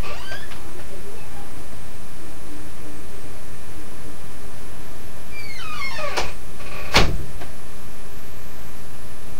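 An interior door creaks open with a short rising squeak followed by a sharp knock, heard close and loud over a steady background hum.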